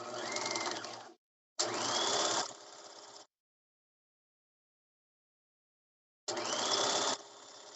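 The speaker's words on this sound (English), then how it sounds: "Back stitch again, stitch to the folds. And do the other side just as a regular seam." A sewing machine stitching a bag seam, three close bursts of rapid mechanical whirring, about one to two seconds each, separated by silent pauses.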